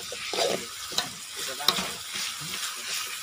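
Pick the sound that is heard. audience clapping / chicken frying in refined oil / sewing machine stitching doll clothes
chicken frying in refined oil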